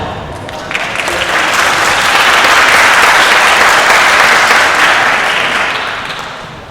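A school competition audience applauds a student team. Loud, dense clapping from a large crowd builds quickly, holds at full strength, then tapers off near the end.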